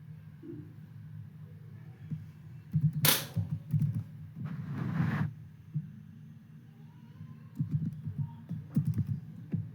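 Short bursts of computer keyboard typing as a mkdir command is entered, clustered key clicks separated by pauses over a low room hum.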